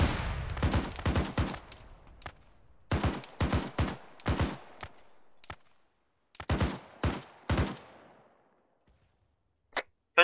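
Gunfire in Arma 3 cracks in rapid bursts of several shots, separated by pauses, with a couple of sharp isolated reports near the end, loud and close with no talking.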